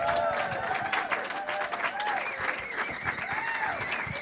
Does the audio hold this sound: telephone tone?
no